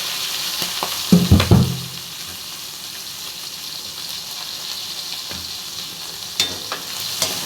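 Shrimp sizzle steadily while being stirred and fried in a pan, with a cluster of clattering stirring knocks near the start and a few lighter scrapes later over the constant hiss.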